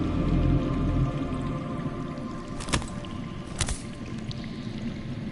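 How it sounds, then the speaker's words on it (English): Water flowing underground in the Game of Thrones Telltale video game, a steady muffled wash and gurgle with a couple of sharp splashing drips, heard alone without talk. "That's water. I hear water. From underground."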